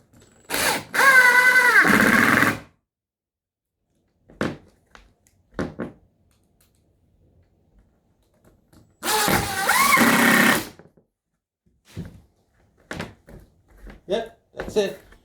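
Screws being driven into a loose plywood subfloor during a squeaky-floor repair: two sustained, loud bursts of driver whirring separated by quiet stretches, with scattered knocks and handling thuds between them.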